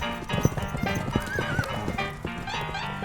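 A farm horse gives a wavering whinny over the steady clip-clop of hooves, close and clear, with no voices.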